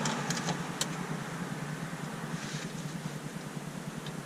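A rewired truck fuel pump runs as a steady, continuous whir with a low hum underneath, constant throughout and close, no talking.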